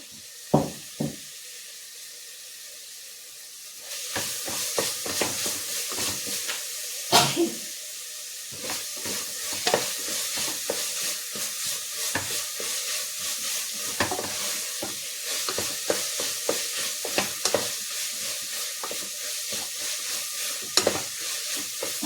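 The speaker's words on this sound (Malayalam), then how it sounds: "അതിൻ്റെ പച്ചമണം മാറുന്ന ഒന്ന് നമ്മൾ ഇളക്കി കൊടുക്കണേ" Green chillies frying in oil for chicken pulao, stirred with a spoon: a quiet start, then a continuous loud sizzle broken by repeated scraping and knocking strokes against the pan.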